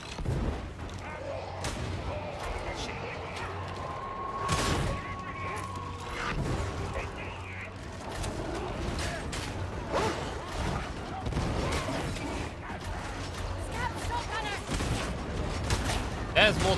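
Shotguns firing in Darktide, with repeated heavy booming blasts scattered through a busy battle din while a player talks over it.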